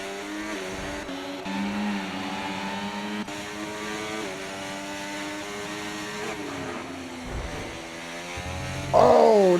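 A pack of race cars running three wide on a circuit, a loud, sustained multi-engine drone with shifting pitches, ending in a sharp higher engine whine close by.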